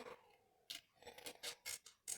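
Nail scissors snip out model kit decals for a Folland Gnat T1 build, a quiet lead-in followed by about five sharp, close metallic cuts in quick succession.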